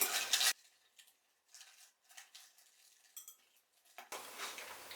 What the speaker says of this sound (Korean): 샐러드를 비비도록 하겠습니다.